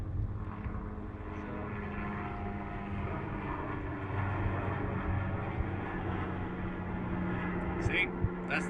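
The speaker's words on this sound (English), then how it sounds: "this could be interesting with the helicopter overhead" A helicopter flying overhead outdoors, a steady distant rotor drone holding constantly in the background, fairly faint, with a person talking nearby.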